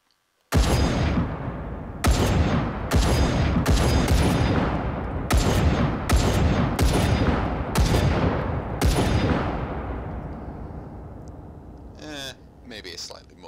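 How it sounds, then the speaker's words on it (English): Loud, close rifle shots fired in a rapid string at targets, about nine sharp cracks at uneven intervals, each with a long ringing tail, fading out at the end. "let's do a proper rapid fire"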